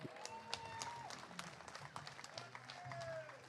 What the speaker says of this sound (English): give them a big round of applause, Kingston